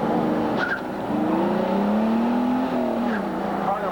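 Pontiac Fiero race car at a 1987 autocross roundup in Gettysburg, Pennsylvania, its engine droning steadily with rising and falling pitch as it works the course, brief tire squeals cutting in, heard from moderate distance.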